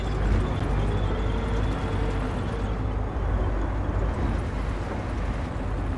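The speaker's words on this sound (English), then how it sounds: "Best listen to that engine purr." A heavy armored vehicle's engine runs in the video game Company of Heroes, a constant low rumbling drone that stays loud and steady with no pauses.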